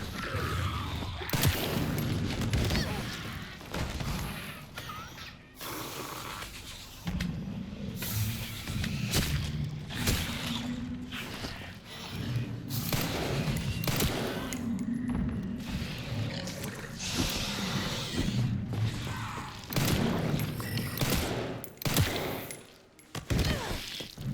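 Rapid gunfire from the video game Resident Evil Requiem, dense bursts of shots and booms filling the whole stretch over a loud in-game soundscape, with a voice occasionally audible beneath.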